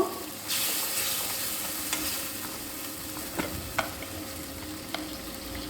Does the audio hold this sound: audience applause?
no